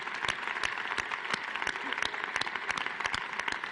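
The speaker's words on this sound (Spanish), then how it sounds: "Creo que es el momento de darles un aplauso" A steady, busy round of applause from the audience at an equality forum, many hands clapping at once with individual claps standing out, continuing at an even level throughout.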